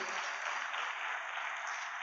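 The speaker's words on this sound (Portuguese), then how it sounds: "Dá um aplauso a ele bem forte aí." A church congregation claps at a celebration service, a dense, even wash of applause held at a steady level for the whole short stretch, with no voices rising above it.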